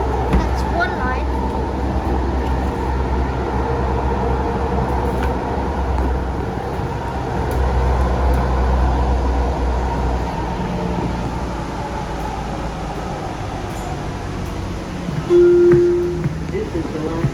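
A Seattle Sound Transit 2 Line light rail train rolling toward the end of the line, with a steady low rumble and hum of the car in motion, faint voices underneath and a brief tone near the end.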